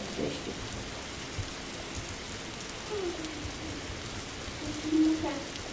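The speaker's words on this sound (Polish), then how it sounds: "pada deszcz!" Steady rain from a Roblox game hisses evenly throughout, a soft continuous wash of falling drops with a faint low rumble underneath and occasional brief tones.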